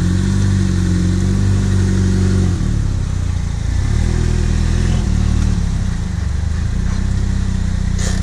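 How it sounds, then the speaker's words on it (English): A car engine idles and runs steadily nearby, low throbbing hum with slight shifts in pitch, no talking. "It is different seeing it move than just knowing that the engine turns over."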